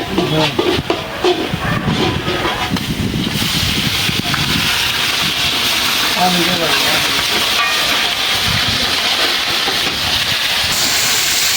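Ginger garlic paste sizzles loudly and steadily in a hot pot of korma, a broad continuous hiss with crackling bursts in the opening seconds.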